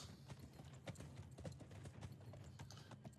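Steady clip-clop of horse hooves in the video game Blood of Steel, a fast repeating rhythm of close hoofbeats over a low rumbling background, heard alone without talk.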